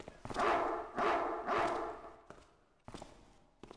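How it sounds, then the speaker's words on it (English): A dog barks in a Thief fan mission game set in a town, giving three loud, close bursts in a row followed by quieter shuffling sounds. "it's the dog"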